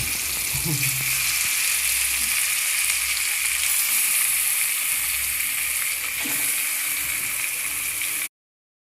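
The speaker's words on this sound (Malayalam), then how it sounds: "എനിക്കിതിൻ്റെ കൂടെ കഴിക്കാൻ ഉണക്കമീൻ വറുക്കാമേ" Dried fish frying in a pan for a meal with cooked jackfruit, a steady close sizzle running for about eight seconds with a few soft clinks, then cutting off to silence.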